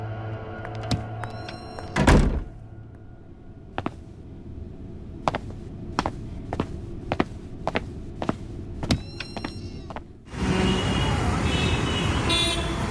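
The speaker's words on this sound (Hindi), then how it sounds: "जाते वक्त दरवाजा बंद कर देना।" A door shuts with a single loud thump early on, followed by scattered sharp knocks and clicks, then a steady broadband hiss takes over near the end.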